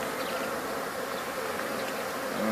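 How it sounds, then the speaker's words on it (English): Honeybees from an opened, smoked beehive, a continuous dense buzzing swarm close to the listener, steady and fairly quiet, with no voices. "You can tell they're just beginning to buzz around a bit"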